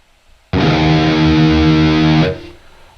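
A single sustained electric guitar chord through a Neural DSP Archetype Plini amp plugin with light gain distortion, ringing loudly for under two seconds before cutting off and fading.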